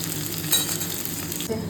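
Potatoes and onions frying in a pan give a close, steady sizzle with a couple of stirring clatters over the short stretch.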